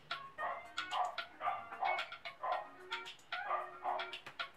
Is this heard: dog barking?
yes